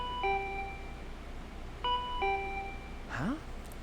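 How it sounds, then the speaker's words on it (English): A two-tone electronic doorbell chime in the video game Danganronpa V3 rings twice in close succession, clear and moderately loud over a quiet background, followed by a brief rising swoosh effect. "My body reacted reflexively as I heard the doorbell."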